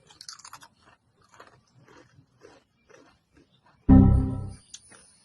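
A single loud, close crunching bite into a crunchy Rap Snacks potato chip, preceded by soft rustling and faint mouth sounds, with no talk.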